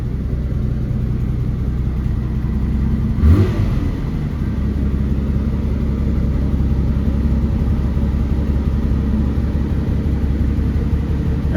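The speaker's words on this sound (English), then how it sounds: "It's gonna idle a little high while it's warming up" A 1972 BMW 3.0 CS engine idles slightly high after a cold start, a steady close low rumble broken by one brief bump about a third of the way in, with no talking.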